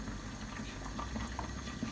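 Chicken broth boils in a covered pot with the lid on to stop splattering. Soft, steady bubbling and gurgling sound close and continuous, with no talk.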